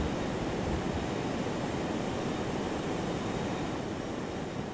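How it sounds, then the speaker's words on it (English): Engine noise from the FlyJSim 737-200 airplane in X-Plane 11, a steady broadband cabin roar with a faint high whine, continuous and even, with no talk. "Turn down the airplane noise."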